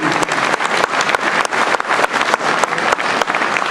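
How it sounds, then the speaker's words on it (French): An audience applauds for French politician Jean-Pierre Raffarin at a political speech in Aulnay-sous-Bois, loud, crisp clapping with a slightly uneven rhythm, sustained from start to finish. "Jean-Pierre, oui, on peut l'applaudir pour ce courage politique."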